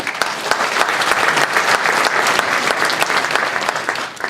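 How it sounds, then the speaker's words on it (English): Full-house audience at a business event in Stockholm applauding loudly, many distinct hand claps merging into a steady, close roar that tapers slightly at the end. "so I want you to applaud for yourself"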